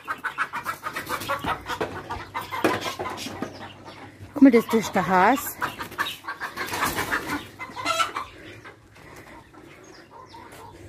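Chickens cluck and squawk inside a henhouse with a horse standing among them, the birds' calls rising in a loud burst midway, while someone talks nearby throughout.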